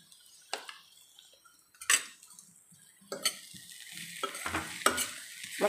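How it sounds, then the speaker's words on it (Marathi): Tandulja greens are stirred and sautéed in a pan with a spoon, giving several sharp scraping clinks against the metal over a soft sizzle, close and without any talking. "मस्त अशी परतून घ्यायची."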